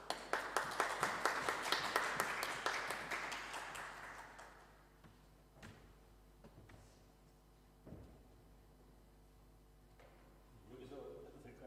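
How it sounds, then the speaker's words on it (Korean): A Korean church congregation in Wales claps in a steady rhythm to welcome a pastor at a revival meeting; the clapping fades after a few seconds, leaving quieter room sounds and talk. "목사님 나오실 때 우리 박수로 환영할까요?"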